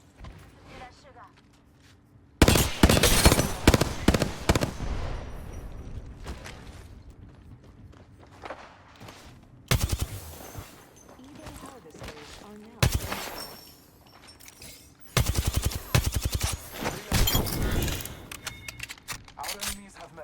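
Rapid gunfire bursts and weapon clatter from the video game Apex Legends come in dense loud stretches between quieter gaps, with a player talking over it.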